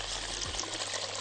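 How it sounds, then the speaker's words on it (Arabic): Broth poured onto a quickly cooked flour and ghee roux, a short steady rush of liquid with a sizzling hiss as it hits the hot pan. "هنحط له بقى السوائل، المرقة"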